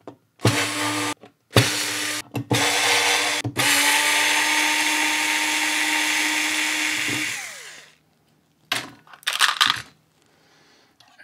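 A power screwdriver whirs steadily for several seconds while undoing the heatsink clamp screws inside an Xbox Series X, with short bursts before and after and brief handling clicks, close and fairly loud.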